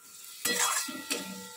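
Curry being stirred and sautéed in a pan, a quiet sizzle broken by two sharp bursts of spatula scraping against the pan, close and alone.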